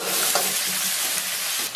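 Chopped scallions hitting a hot oiled wok with minced meat, a dense continuous sizzle up close with stirring scrapes and a brief clack near the end.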